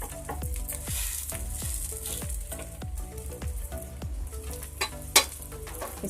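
Bread toast frying in a pan while a triangle spatula presses it down, a continuous close sizzle broken by repeated soft scraping presses and a sharper clink near the end.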